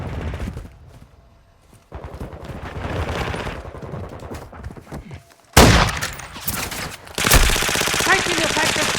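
Call of Duty Modern Warfare 2 gunfire: rapid automatic bursts and thuds rattle close by, with a short quiet gap, then louder, denser firing returns near the end.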